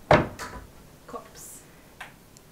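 Kitchen cupboard doors in a small apartment studio open with a loud click and thump, then a few softer knocks and taps spaced over the next two seconds, close by.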